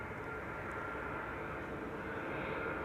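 A KLM Boeing 777-200 arriving at Schiphol on the Kaagbaan runway produces a steady, broad engine roar that holds at an even, moderate level throughout, with no voices.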